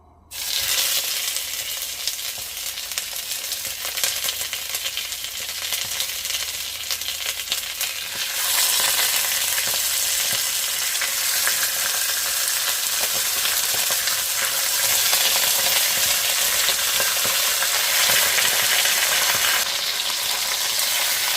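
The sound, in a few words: chicken frying and being stirred for chicken afritada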